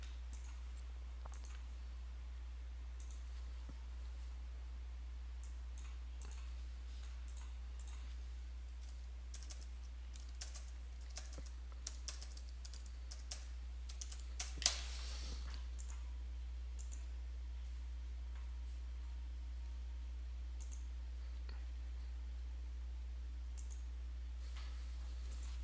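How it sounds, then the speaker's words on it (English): Soft computer keyboard typing and mouse clicks tap away irregularly at a desk while data is imported into Excel, faint and close, with a brief flurry of louder clicks midway. "I'm going to click the Map button, change these incoming values."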